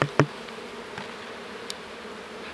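About three hundred honey bees buzz inside a screw-lid sample jar, a faint, steady hum broken by a few sharp taps or knocks near the start and one brief high click later.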